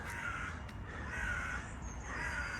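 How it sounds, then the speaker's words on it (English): A local crow or jackdaw caws a few times at a distance in a small memorial garden with metal silhouette sculptures, faint harsh calls over a steady outdoor background hum. "accompanying music by a local crow or jackdaw"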